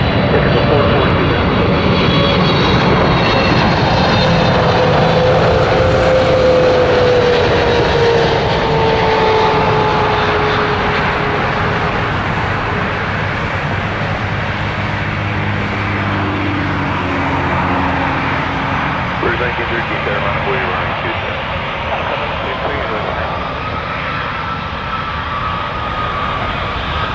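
A jet airliner lands at Toronto Pearson airport, its loud broadband engine roar steady and close, running throughout with a voice speaking over it.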